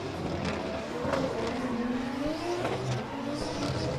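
A drift car's engine revs hard on a circuit at the Oman International Drift Championship, its pitch rising and sweeping as the car slides, loud and continuous under crowd and track noise.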